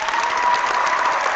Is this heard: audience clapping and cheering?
yes